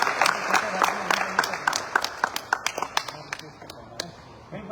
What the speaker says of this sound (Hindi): मैं जरूर चाहूँगा एक बार जोरदार तालियां